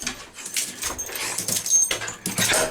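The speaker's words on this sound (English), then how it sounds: "you don't normally have a nutter dog interrupting you, do you?" A dog makes excited noises close by during a roadside car breakdown, with yelps and scuffling in short irregular bursts and no talk.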